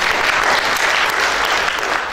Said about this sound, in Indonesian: Tepuk tangan buat Tuhan ini.